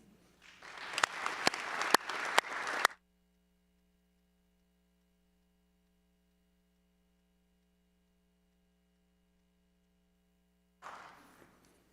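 Brief applause at an annual members' meeting, clapping with a few sharp claps for about three seconds, then near silence with a low electrical hum, and a short fainter burst of clapping near the end.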